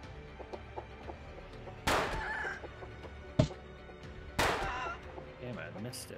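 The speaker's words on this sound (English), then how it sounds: "There's a damn chicken" Chicken clucking in the video game Werewolves, soft scattered clucks under a steady game background, broken by three loud sharp bangs.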